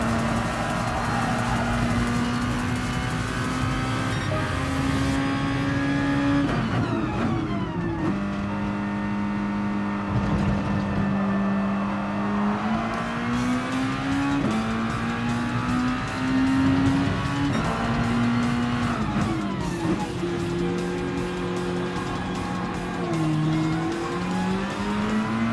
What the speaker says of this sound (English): Car still running there.